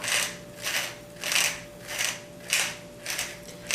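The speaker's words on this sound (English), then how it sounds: "freshly ground black pepper" Pepper mill grinding black pepper gives about seven quick, close ratcheting crunches in a regular rhythm, quiet and alone with no voices.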